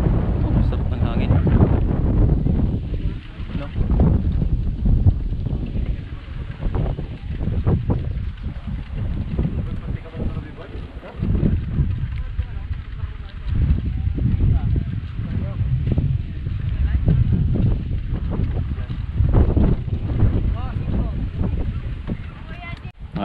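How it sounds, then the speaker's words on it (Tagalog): Wind blows outdoors in the Philippine countryside and buffets the microphone in rough, uneven low gusts throughout, while people talk now and then. "Oh, sarap ng hangin."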